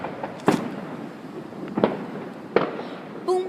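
Outdoor fireworks go off in three sharp cracking bursts spaced about a second apart, loud and close against a crackling background, with a voice right at the end.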